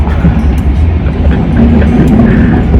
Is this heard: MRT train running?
yes